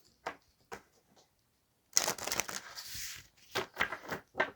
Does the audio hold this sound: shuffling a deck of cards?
yes